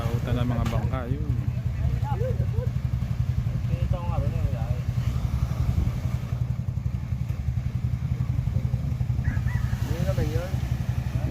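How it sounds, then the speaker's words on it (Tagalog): Fishing boat engines chug steadily in the distance as the boats head out to sea after a catch, a continuous low motor drone beneath intermittent voices and background chatter. "Naglautan ng mga bangka, yun."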